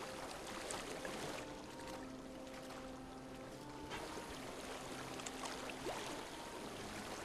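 A waterfall in Subnautica pours and splashes in a steady, faint, continuous rush of water with no pauses.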